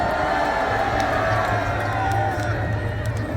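A political rally crowd cheers and shouts in a steady, dense roar that carries on throughout, with someone speaking over the noise.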